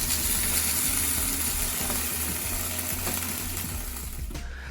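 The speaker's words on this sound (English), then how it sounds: "listen to that sizzle." Food sizzles steadily on a hot Ninja Foodi Grill XL, a continuous crackling hiss with a low mechanical hum beneath, close and fairly loud.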